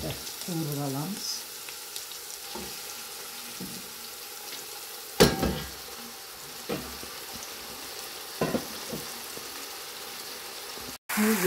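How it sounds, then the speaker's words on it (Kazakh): Meat fries in oil with a low, continuous sizzle, broken by a few sharp utensil knocks and scrapes, while a voice is briefly heard near the start. "Енді етімізді қуырып аламыз."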